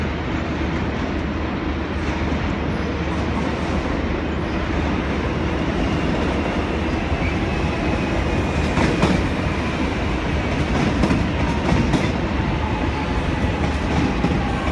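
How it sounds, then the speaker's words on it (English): Glen Waverley suburban train pulling into platform 10 at a station, a steady loud rumble of wheels and carriages with rhythmic clicks over rail joints and faint squeal, continuous and close throughout. "We've got a Glen Waverley service arriving into platform number 10."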